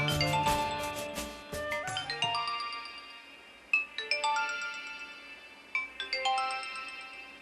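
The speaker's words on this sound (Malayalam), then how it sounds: "ആ ഫോൺ എടുക്ക്." A phone ringtone rings in a melodic chiming pattern, repeating several times, clear and fairly close with no talk over it.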